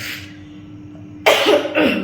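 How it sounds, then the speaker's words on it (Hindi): A person with a lingering illness coughs indoors at home, two or three harsh, close bursts after a quiet stretch, loud and alone with no talk. "पता नहीं घर में आते ही खांसी क्यों हो रही इतनी"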